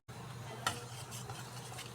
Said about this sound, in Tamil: தண்ணி ஆட் பண்ணி நம்ம கலக்கி ஒரு 1/2 அன் ஹவர் வச்சிடுறோம்